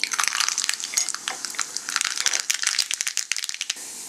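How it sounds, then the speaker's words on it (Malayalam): Mustard seeds splutter in a small pan of hot coconut oil, giving rapid, close, irregular popping and crackling that grows denser and sharper toward the end. "കടുക് പൊട്ടിക്കഴിഞ്ഞിട്ടുണ്ട്."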